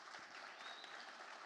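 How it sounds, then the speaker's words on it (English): An audience at an investment summit finale applauds, a soft, even wash of clapping heard from a distance throughout. "let's give them a round of applause"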